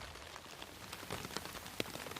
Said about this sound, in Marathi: पाऊस पडत आहे आपल्याकडे